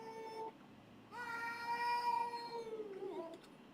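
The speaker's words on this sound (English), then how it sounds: "His cat woke him up with horror music." A cat meows in a short call and then a longer, wavering drawn-out meow, fairly close and clear, with no voices over it.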